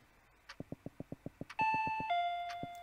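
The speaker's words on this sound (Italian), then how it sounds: "Il campanello!" A video game doorbell rings out loud and clear after a quick run of rhythmic ticks, sounding as a sustained multi-tone chime that rings on and fades over its last second.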